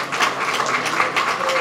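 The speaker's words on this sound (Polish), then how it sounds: "Duże brawa, pan Andrzej." An audience at a Polish election campaign presentation applauding, a steady, dense patter of many hands clapping at moderate volume for a short stretch.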